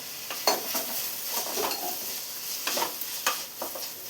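Onions with curry leaves and green chillies sautéing in a pan, a soft steady sizzle broken by repeated scraping stirs of a spoon against the pan, close up with no talking.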